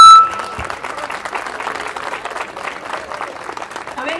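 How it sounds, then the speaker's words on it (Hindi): An audience at a devotional bhajan cultural program claps steadily after a sharp cutoff of an electronic tone, rhythmic applause continuing for several seconds with voices faintly underneath. "देखो जितनी देर ये जले उतनी देर तो तालियां बजानी थी"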